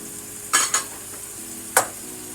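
Sliced leeks frying in a pan until soft, with a quiet steady sizzle under three sharp clatters from stirring with a utensil against the pan.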